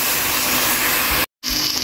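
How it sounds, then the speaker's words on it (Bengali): Crushed garlic frying in a pan for red amaranth greens, a steady broad sizzle that runs loud and even, cut by a brief pause before resuming. "রসুন ছেঁচা দেওয়ার পরে বেশ কিছুক্ষণ ভেজে নিচ্ছি"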